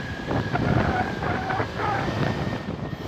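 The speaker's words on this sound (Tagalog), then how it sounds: "Medyo malakas lang yung hangin ngayon guys, kaya talaga nakaka-apekto sa takbo natin ngayon." Strong wind buffets the microphone while riding a Honda Click 125 scooter on the road, a continuous rushing roar with gusting swells and a faint engine tone beneath it.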